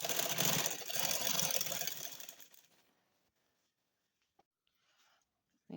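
Sewing machine stitching the elastic casing of a tulip shalwar, a steady dense whir for about two and a half seconds that fades out, leaving near silence with a few faint clicks.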